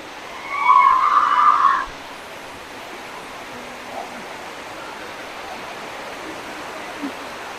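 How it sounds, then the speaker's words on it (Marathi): Waterfall at the Chafnath temple in Chafavali spills down from above with a steady broadband rush that carries through the whole clip, while a brief louder patch of noise rises over it early on. Nobody speaks. "तर बघा इकडे धबधबा आहे असा वरून पडतोय तापनाथचा."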